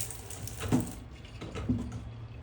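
Tap water sprinkled by hand over poha in a home kitchen, two soft splashing bursts about a second apart over a steady gentle background wash, close and fairly quiet, no talking.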